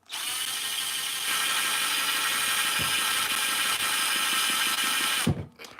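A power drill whirs loudly and steadily at close range for about five seconds while used on an HPI Savage RC car with a failed one-way bearing, then winds down and stops with a clunk.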